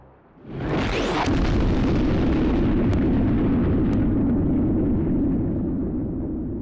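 A big explosion in the Overblood 2 video game destroys the attraction pole: a sudden loud blast that rolls into a sustained, roaring rumble lasting several seconds, with no voices over it.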